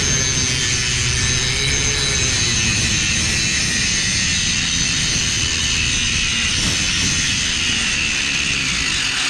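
A Warrior 4.5 inch, 4.3 amp angle grinder, a cheap Harbor Freight tool, runs hard and grinds continuously, giving a loud, close, high-pitched whine with a rough, steady roar and no pauses.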